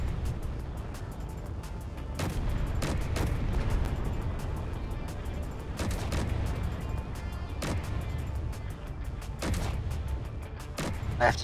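Turrets fire in Space Engineers: irregular sharp booming shots burst over a constant low rumble, spread across the whole stretch with several strong, close reports.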